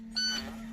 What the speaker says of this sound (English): I hear the alarm warning me I'm losing air